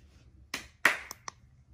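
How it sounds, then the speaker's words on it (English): Hand claps in a quiet room: two sharp, close claps in quick succession, followed by a couple of fainter, smaller clicks. "Clap twice."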